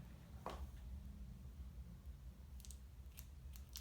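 Scissors snip through hair during a haircut, giving one soft cut early and then several faint, quick snips against a low, rumbling background.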